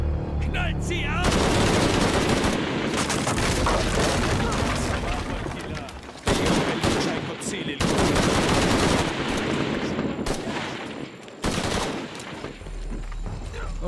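Gunfire in the action-adventure video game Shadow of the Tomb Raider: dense, loud bursts of rapid automatic shots and booms in several long volleys, broken by short pauses, with voices partly under the shooting.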